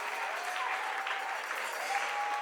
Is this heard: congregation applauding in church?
yes